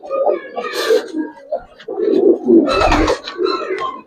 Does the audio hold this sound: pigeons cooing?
yes